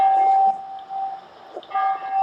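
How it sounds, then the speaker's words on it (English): Church bells ring on the outskirts of Munich, Germany, sounding as a sustained, fairly faint tone that fades and returns, with no speech over it. "You hear the bells ringing."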